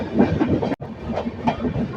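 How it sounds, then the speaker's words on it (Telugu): Another train passing close by at a crossing on an Indian express journey, a loud continuous rumble with rhythmic wheel clatter and a brief sharp dropout partway through. "మళ్ళీ ఏదో ట్రైన్తో మనకు క్రాసింగ్ ఉంది ఇక్కడ"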